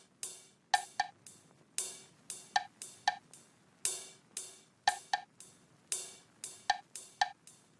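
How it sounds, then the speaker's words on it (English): A bright ride cymbal pattern with echoing repeats, punctuated by short hollow wood block knocks in a steady, busy rhythm, heard alone. "There's a ride cymbal in here with a delay on it, and then also this little wood block."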